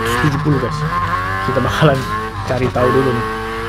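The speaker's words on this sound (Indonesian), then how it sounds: "Dan ini adalah suara dari mesin rotari ya" A rotary engine swapped into a 1970 Volvo Amazon P130 in the racing game Need for Speed Heat revs and drones loudly, pitch rising and dipping, while someone talks over it.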